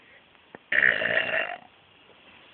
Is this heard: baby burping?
yes